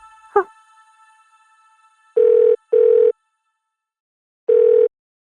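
A short click, then three steady electronic tone bursts, two close together and a third after a pause, sounding like a dial tone through a phone speaker.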